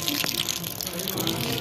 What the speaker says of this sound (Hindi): ये देखो टांकी फुल हो गई है